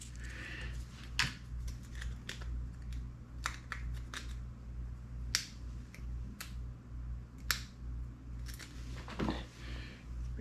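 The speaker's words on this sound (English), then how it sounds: "I'm gonna trim off some Velcro." Scissors trimming strips of Velcro at a workbench, sharp crisp snips repeating irregularly every second or so, close up over a steady low electrical hum.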